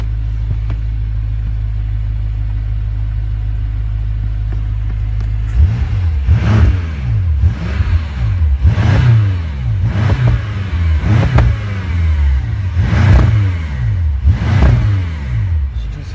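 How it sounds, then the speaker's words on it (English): A BMW M5 fitted with an Akrapovic exhaust idles with a deep drone, then is revved in about seven sharp, rising bursts, heard loud and close from inside the car. "Take a seat inside the car, show what it's like, give it a bit of revs."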